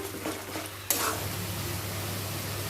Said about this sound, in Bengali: এবার মশলাটাকে ভালো করে কষামু